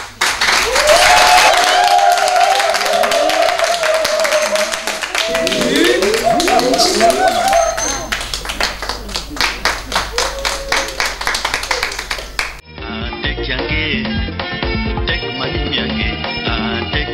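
Theatre audience applauding at a stage comedy performance, a dense, loud burst of clapping that thins into scattered claps, with voices and some musical sounds mixed in.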